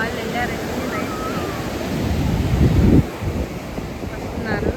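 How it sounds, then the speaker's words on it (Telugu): Cool wind gusts across Chirala beach and buffets the microphone, mixed with the steady wash of surf, growing stronger near the middle, with people's voices faintly audible. "ఇప్పుడు అసలు చల్లగా గాలి వస్తుంది"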